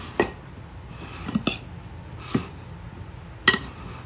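Buffalo chicken is mixed with sauce in a bowl: a few sparse, sharp clinks and taps of a utensil against the bowl, spaced irregularly over quiet, low background noise.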